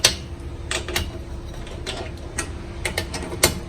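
Metal wrench ratcheting as bolts are tightened on a STIGA Advantage indoor ping pong table, with a run of quick clicking bursts close by over a steady low hum.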